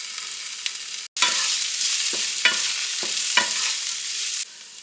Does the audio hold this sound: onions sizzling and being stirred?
yes